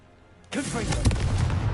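A Confringo fire spell detonates in Hogwarts Legacy, a sudden booming burst after a quiet moment, with rumbling crackle lingering close by for over a second.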